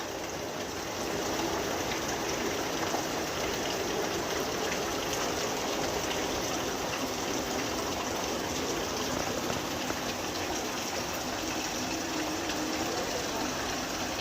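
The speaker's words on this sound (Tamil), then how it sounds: "காலங்காத்தால மழை பெய்து பெறும்" Steady, dense hiss of morning rain falling in Karamadai, continuous and even throughout with no pauses, like a heavy shower heard close by.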